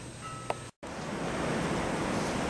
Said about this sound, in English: taking a little bit of movie of the snow, just so you can hear the wind blowing